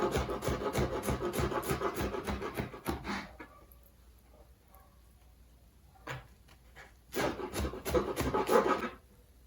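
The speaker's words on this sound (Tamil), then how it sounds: "இது எல்லாத்தையும் குட்டி குட்டி குட்டியாக அரிஞ்சு இதில் போட போகிறேன்." A knife chopping banana flower into small pieces: a dense burst of quick cutting strokes, a quieter pause with a few isolated knocks, then another burst of chopping.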